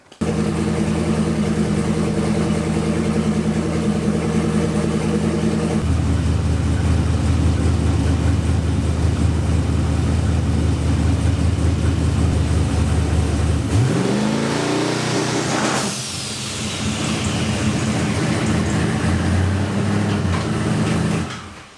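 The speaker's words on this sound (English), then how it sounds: "we're gonna fire it up just to see what it sounds like with the muffler" A loud car engine with a new, tack-welded muffler idles, then revs hard and climbs in pitch, roaring through the exhaust before dropping back down, close and continuous.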